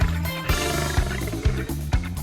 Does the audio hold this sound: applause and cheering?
no